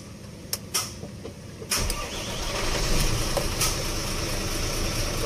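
A vehicle engine starting after a speed sensor wire repair: a few clicks and a brief crank, then the engine catches and settles into a steady, moderately loud idle.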